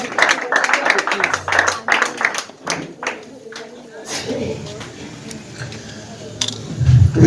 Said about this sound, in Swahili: Alafu pigie Bwana makofi.